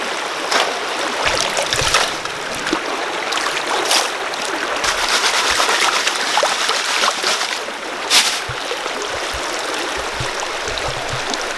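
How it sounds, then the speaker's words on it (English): Creek water flows steadily at a mountain gem mine, a broad continuous rush with a few brief louder splashes and knocks, close and fairly loud throughout with no talking. "we just made it to the creek and we're gonna see what we can get into"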